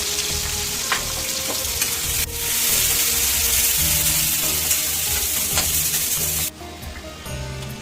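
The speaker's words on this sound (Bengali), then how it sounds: "ওই তেলের মধ্যেই দিয়ে দেব শুকনো লঙ্কা তেজপাতা একটু গোটা গরম মশলা আর দিয়ে দেব কেটে রাখা বেশ খানিকটা পেঁয়াজ কুচি" Chopped onions, dry red chillies, bay leaves and whole garam masala fry in hot oil in a kadai, a loud, dense, close crackling sizzle that suddenly drops to a softer hiss near the end.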